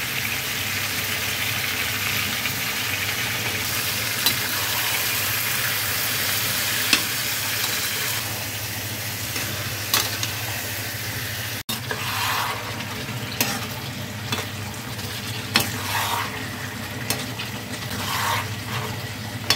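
Chili paste, ginger paste, turmeric and Kashmiri chili powder sautéing in a pan for a fish curry, a sustained close sizzle broken by repeated spoon scrapes and taps, with no talking.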